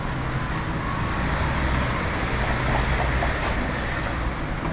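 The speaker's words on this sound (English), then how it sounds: "There we go. Double trams." Two trams pass along Glenferrie Rd in Melbourne, a loud continuous rumble of rail wheels and motors close by, blended with street traffic noise throughout.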